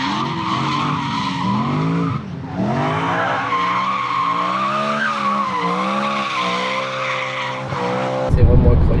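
A BMW M3 drifts, its tires squealing steadily in a loud, wavering screech over the rising and falling engine note, broken by a brief dip and a harsh burst at the end.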